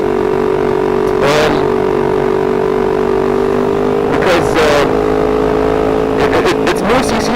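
A 599–636cc sport motorcycle cruises at speed in sixth gear, its steady engine drone loud and constant under heavy wind rush, with passing traffic swelling through a few times.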